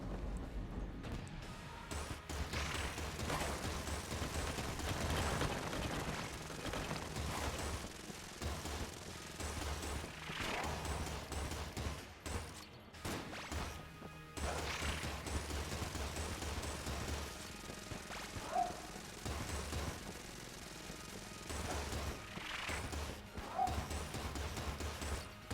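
Gunfire from a weapon in the roguelike shooter video game Enter the Gungeon, repeated rapid bursts and scattered impacts at a fairly low level with brief lulls between volleys.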